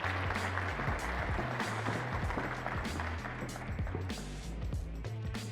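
Audience applause at a corporate Siemens technology talk as a speaker is welcomed onto the stage, a dense, steady wash of clapping over loud background music with a thumping bass line.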